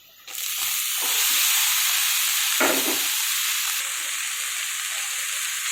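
Greens are tossed into a pan of fried onions and oil, setting off a sudden loud sizzle that settles into a steady, close hiss, with a brief stirring scrape partway through.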